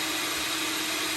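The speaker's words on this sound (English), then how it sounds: "let's process in a food processor" A steady, loud motorized whir of a food processor spinning a codfish patty mixture with parsley, constant and uninterrupted.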